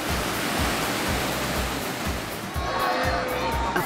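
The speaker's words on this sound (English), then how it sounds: "With state-of-the-art wave pool technology, waves can be created for the individual surfer at every level" Artificial surf rolling through the Wadi Adventure wave pool, a steady loud rush of churning water with rhythmic surges, under a narrator's voice.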